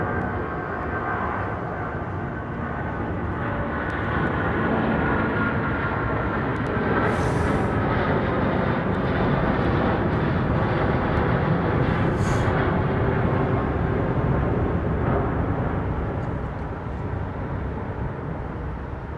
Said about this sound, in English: 777-200, smoking away